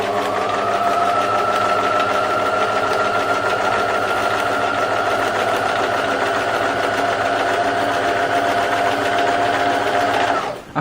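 A sewing machine runs at a steady high speed, stitching tiny circles around the lace edge of a hole in layered lace, paper and cloth, a loud continuous whirring drone that holds evenly before stopping abruptly at the end.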